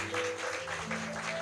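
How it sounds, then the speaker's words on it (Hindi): Applause in a church programme for the deaf, a burst of clapping from the congregation that carries loudly across the whole moment. "बहुत जोर से ताली बजा सकते हैं हम इनके लिए"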